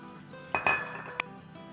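A metal spoon stirs small washed cauliflower florets in a cooking pot, giving a few sharp clinks and scrapes against the pot over about two seconds, close and fairly quiet.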